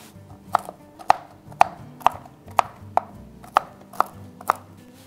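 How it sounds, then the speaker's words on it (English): Pecans are chopped with a knife on a board, about ten sharp, evenly spaced cuts, close and clear, with no talking. "Pecans chopped."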